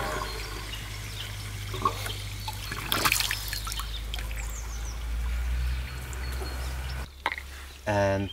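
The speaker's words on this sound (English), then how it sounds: "And now we will let the water in." Water rushes into the intake of a homemade DIY ram pump as a steady, hissing flow with trickling texture, ending in a few brief clicks and knocks.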